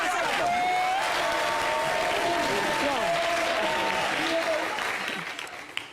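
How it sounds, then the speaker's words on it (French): An audience applauding on a French-language show, sustained clapping with a few voices talking and exclaiming over it, holding steady before fading out near the end. "On applaudit, on applaudit, on applaudit."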